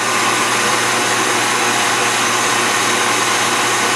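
Hand mixer whipping homemade cream in a bowl, a steady loud electric motor whir that runs without a break and with no talking.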